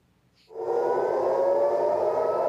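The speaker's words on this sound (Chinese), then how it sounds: "以色列的大城特拉维夫25是警报声一直亮" An air raid warning siren in Tel Aviv comes on after a brief quiet moment, rising quickly and then holding a loud, steady wailing tone that sounds from some distance away.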